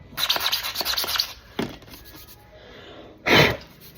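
A costume prop sword is hand sanded, giving rhythmic rasping strokes in a quick burst, then a single stroke, a quieter pause and one more loud close scrape.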